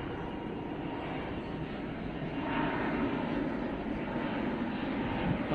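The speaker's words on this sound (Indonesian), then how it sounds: "Tuh, ada pesawat terbang ya," An airplane flies overhead at a white-sand seaside spot at Land's End, PIK 2, giving a continuous broad roar that swells slightly midway and stays steady to the end.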